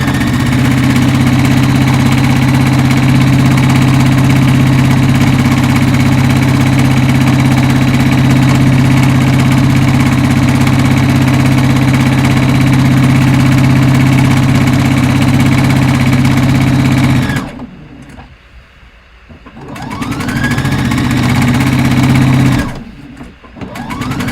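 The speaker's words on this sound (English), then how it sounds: "when you're sewing it the second time, you're literally just sewing right on the stitch that you previously did" A sewing machine runs over a previously sewn seam in a steady, loud, droning hum that cuts out briefly near the end, restarts for a moment and then stops again.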